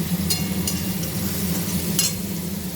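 Mutton being sautéed in oil, a steady soft sizzle and frying hiss throughout, with a few brief clinks of a stirring utensil against the pan.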